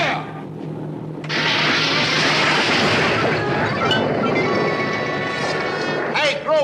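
A torpedo fires from a PT boat tube with a sudden loud crashing burst that settles into a sustained roaring, hissing rush, ending in a final splash-like clatter; a voice shouts briefly near the end.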